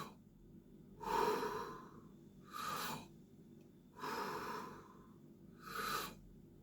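Four slow, deep breaths are taken during a vocal warm-up, alternating drawn-in and released airflow in an even rhythm, close and fairly quiet with no talk.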